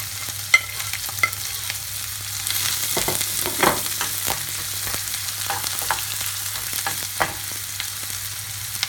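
Onion, ginger and garlic frying in hot oil, a soft steady sizzle close by with occasional spatula scrapes and taps scattered through, no voices.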